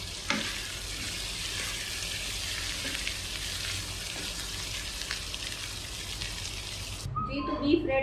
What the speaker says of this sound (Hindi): इसको आपने तकरीबन 2 मिनट फ्राई करना है और ये रेडी हो जाएगा।